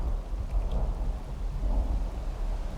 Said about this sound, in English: sounds like there's a storm coming